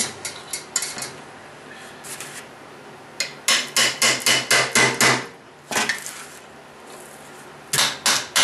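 A punch is struck repeatedly with a hammer to drive a pin out of a metal digger handle, giving sharp metallic taps in quick clusters and rhythmic runs with short pauses between.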